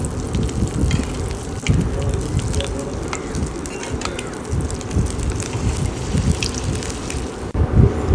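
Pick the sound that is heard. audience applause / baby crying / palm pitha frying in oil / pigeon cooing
palm pitha frying in oil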